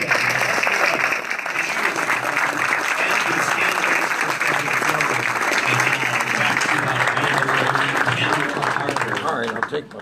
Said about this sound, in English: This is the point where we applaud all of the pledges.